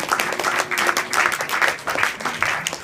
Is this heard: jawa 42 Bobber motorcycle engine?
no